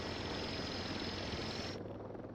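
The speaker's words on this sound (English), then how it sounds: "I'm gonna send that drone off because I don't like hearing it whirring in the background." Steady broadband whirring hum from a drone in the video game Voices of the Void, loud and continuous, with the upper hiss dropping away near the end.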